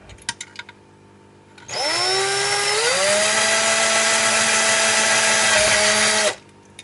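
A power drill whirs up loudly and holds a steady, high whine for several seconds before cutting off abruptly.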